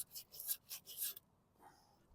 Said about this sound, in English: Probably a little rougher sandpaper than I should be using